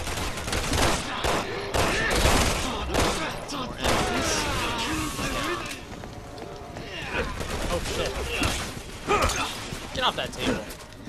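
Gunfire in the video game Resident Evil 6, set in China: bursts of rapid shots and heavy impacts rise and fall under game music and effects, with someone talking over parts of it.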